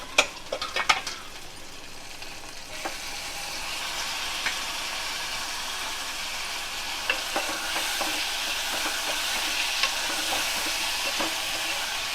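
Tomatoes go into a pan of sizzling onions for a capsicum tomato masala curry, with a few sharp clatters at first, then a steady close sizzle broken by occasional spatters and stirring clicks.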